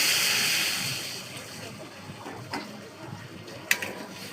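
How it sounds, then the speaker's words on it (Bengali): Water is poured into a pan of simmering fish roe curry, giving a broad rushing splash that fades into a softer sizzle and bubbling, with a few small clinks near the end. "আমি এবারে জল দিয়ে দেবো, এই জল দিয়ে দিচ্ছি।"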